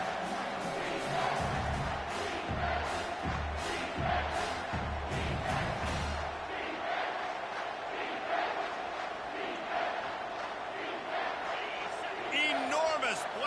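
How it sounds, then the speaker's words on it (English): Dense stadium crowd at a football game roaring and cheering on a third-down play, a loud sustained wash of voices throughout with bursts of shouting, no clear talk standing out. "this crowd is bringing down the house"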